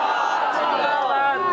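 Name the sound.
crowd chanting the slogan Zindabad in response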